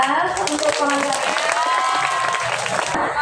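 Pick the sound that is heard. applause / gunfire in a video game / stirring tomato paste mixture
applause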